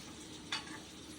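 Onions frying in a pan while being stirred, a soft steady sizzle with one brief scrape of the spoon, faint and close.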